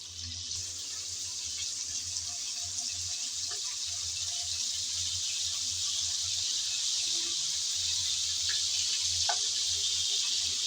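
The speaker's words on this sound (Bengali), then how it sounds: "এখন ভালোভাবে একটু ভেজে নেব।" Shrimp frying in a pan give off a steady, even sizzle from start to finish, with a few faint clicks and no talk.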